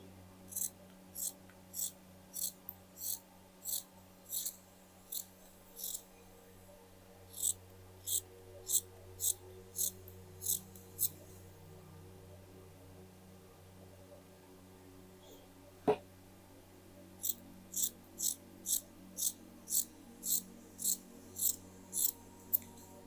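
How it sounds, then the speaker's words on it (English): Scissors snip through sweatshirt fabric being cut for a dress, a brisk run of about a dozen crisp, evenly spaced cuts, then a pause and a second, longer run of close, rhythmic snips. A single sharp knock falls in the quiet gap. "And here I will cut it like this."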